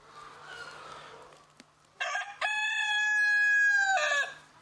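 A Korean native black chicken (Ogye), raised in Yeonsan-myeon, Nonsan, clucks softly before letting out a single loud, drawn-out crow close by.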